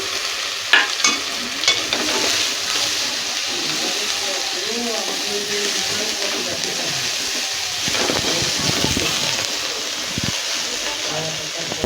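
Onions and green chillies fry and sizzle in a pan while being stirred, a steady hiss throughout with occasional clinks and scraping; a voice speaks faintly under it.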